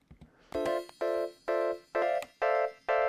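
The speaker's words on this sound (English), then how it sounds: "It's just playing the full chord all at the exact same time." A synth chord is struck six times in an even rhythm, every note sounding together with no strum, each hit short and bright.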